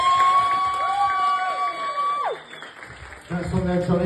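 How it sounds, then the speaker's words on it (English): A comedy club audience cheers and whoops for comedian Johnny Smallboy as his set ends, with rising whistled shouts over a bed of applause that drops off, then swells again with a burst of crowd noise. "let's have a round of applause for Johnny"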